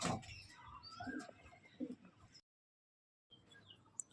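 Pigeons in a home loft coo and flutter close by with soft chirps and scuffs, followed by a short silent gap before quieter bird sounds resume.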